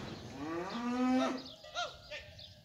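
A cow in a corral gives one long, loud moo that rises and falls over about a second and a half, followed by a few shorter grunting calls nearby, with no talk.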